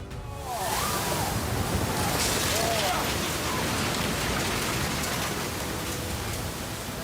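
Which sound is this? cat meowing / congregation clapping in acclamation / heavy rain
heavy rain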